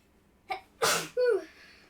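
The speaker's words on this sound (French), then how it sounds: "je voulais en fait baisser le son du micro pour faire atchoum" A person sneezes once, two quick catching breaths followed by a sharp, loud burst and a trailing exhale, close up and alone.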